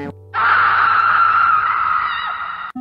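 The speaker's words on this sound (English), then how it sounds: "until they heard a scream from the basement" A long sustained scream rings out loud and steady for over two seconds after a brief pause, heard in a basement during a horror murder mystery scene, with no talking over it.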